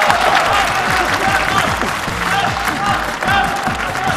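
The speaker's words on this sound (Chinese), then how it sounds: "朋友们，掌声欢送一下李勇，谢谢" Dense, loud applause from a large gala audience at a Spring Festival variety show, sustained and even throughout as the host Li Yong is seen off the stage.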